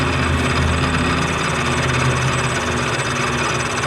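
A lathe on a DIY outboard spider project runs at raised speed, producing a loud, constant mechanical drone with steady vibration throughout, no speech.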